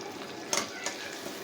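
Chopped onion hits hot oil for tempering a chickpea-lentil curry with egg, a steady sizzle of frying punctuated by a couple of brief stirring clatters, close and fairly quiet with no voices.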